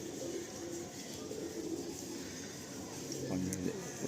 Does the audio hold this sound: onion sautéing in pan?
no